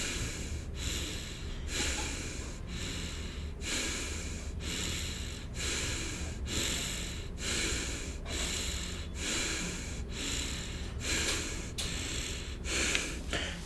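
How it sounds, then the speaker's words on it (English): Slow, steady breathing sits close and alone against a constant low room hum, each breath a soft airy swell repeating at a regular pace through a stretch of quiet. "So I'll go quiet for exactly 10 seconds. And I'll count these 10 seconds with my breathing."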